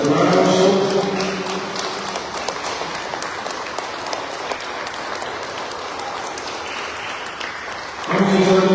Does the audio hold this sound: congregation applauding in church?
yes